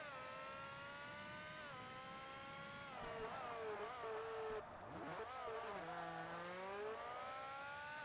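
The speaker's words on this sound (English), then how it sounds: "Oh, lovely engine noise." Race car engine in the Forza Motorsport video game, an R-P1 class prototype, revving high with rising and falling pitch through gear shifts, a brief drop mid-way, continuous and fairly faint.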